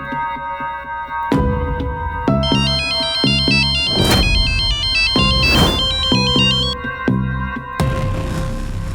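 A mobile phone ringtone plays loudly and continuously with repeating melodic electronic tones, ringing again during a tense domestic drama scene.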